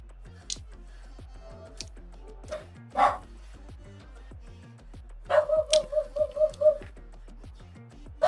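A dog barks indoors, a few isolated woofs, then a quick run of about seven sharp, loud barks and one more at the end, with no talk over them.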